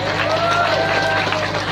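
An audience claps together, a rattling patter of many hands that runs continuously beneath a voice talking over it.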